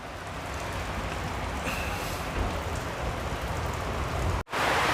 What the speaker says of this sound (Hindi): बारिश की स्पीड बहुत तेज़ हो चुकी है।